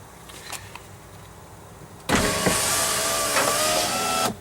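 After a faint click, the electric window motor of a 1995 Pontiac Grand Am whirs steadily for about two seconds as the glass rises, then stops abruptly.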